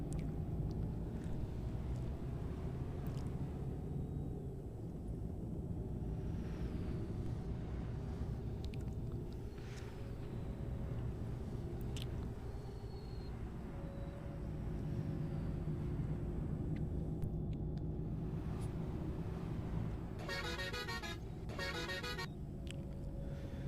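Road traffic rumbles steadily in Euro Truck Simulator 2 from the cab of a Volvo bus, with a low engine drone and a couple of horn toots near the end. The sound stays faint throughout.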